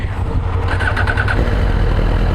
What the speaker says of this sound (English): So now let's start the bike.